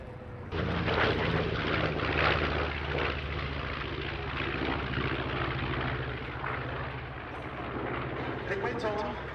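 A Douglas DC-6 propeller airliner flies past at the Duxford D-Day 80 airshow, its piston engines giving a loud, steady drone that comes in abruptly and holds for the rest of the pass, with some talk underneath.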